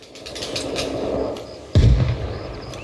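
Gunfire and artillery in the military game Arma Reforger, distant popping shots followed by one loud, close booming blast that rolls off slowly.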